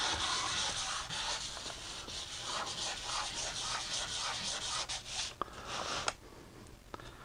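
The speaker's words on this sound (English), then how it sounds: "So what I'm going to do is lightly rough up that epoxy and rough up this aluminum." Steady hand sanding rasps across cured epoxy and aluminum, lightly roughing the surfaces with continuous scratchy back-and-forth strokes at close range, ending in a few sharper scrapes.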